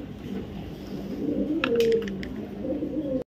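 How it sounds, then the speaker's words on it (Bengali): A red checker female pigeon coos in low, rolling notes close by, with a brief burst of higher chirps partway through before cutting off. "রেড চেকার একটা ফিমেল কবুতর"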